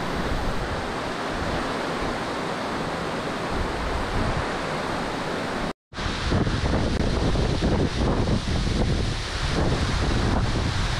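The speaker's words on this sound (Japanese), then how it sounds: "ものすごい水しぶきで滝壺の真ん前までは寄せつけさせてくれません。" Kurokuma Falls in Tsugaru, Aomori, roars with heavy spray, a dense, unbroken rush close by, cut by a brief gap before returning even louder.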